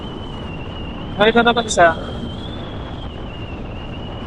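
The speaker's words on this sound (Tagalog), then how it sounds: "Kahit sobrang lakas ng hangin dito ngayon." Strong wind buffets a rider on a Yamaha Fazzio scooter with a cargo setup during a night ride on the Marilaque highway, a steady rushing roar throughout, with a brief burst of someone speaking in the middle.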